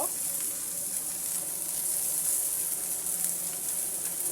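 Shrimp and bitter gourd frying together in a pan make a faint, steady sizzle with a soft hiss and no speech.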